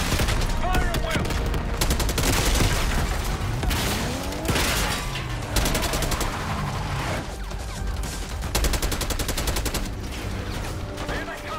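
Dense, continuous gunfire fills a Call of Duty Black Ops 6 campaign battle, with rapid automatic bursts and overlapping shots that stay loud and close throughout, backed by heavy rumbling impacts.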